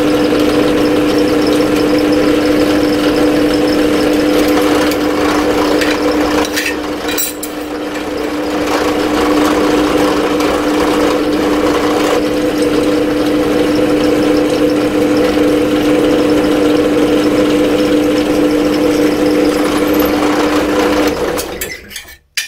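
Steady, loud drilling into a metal plate for an off-road trailer handbrake fabrication, a continuous whine with a constant tone that runs for about twenty seconds, briefly dipping midway and stopping abruptly at the end.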